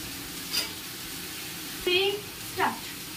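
Sliced potatoes fry in a little oil, a soft steady sizzle close by, with a few brief voice-like bursts of talk over it.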